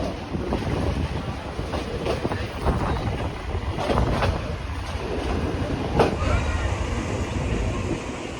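A passenger train running on the line toward Santahar station in Bangladesh, a steady loud rumble of wheels and carriage with wind buffeting the microphone throughout, a few sharper clanks standing out, and faint voices underneath.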